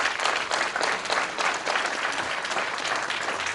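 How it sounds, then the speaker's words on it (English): Thick, sustained applause from a crowd at a 2009 ribbon-cutting ceremony for the Thomas P. Ryan Community Center in Rochester, a close, uniform wash of clapping that holds steady throughout. "Need a huge round of applause for their great work."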